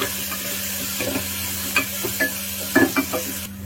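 Ginger-garlic paste sautés in a pan for Tamil mutton kulambu, a soft, close sizzle broken by a few distinct stirring scrapes and light clinks.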